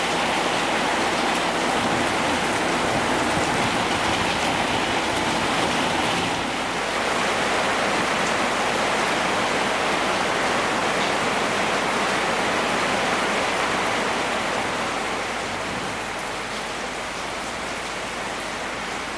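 Rain pouring steadily and dripping through a farmyard shed roof onto a camouflage net, a dense continuous wash of water noise, loud and close, with no voices throughout.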